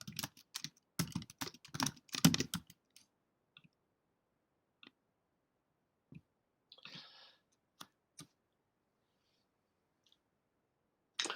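A computer keyboard is typed on in quick clustered bursts of clicks for a few seconds, then only scattered single taps and small clicks spread across a quiet background.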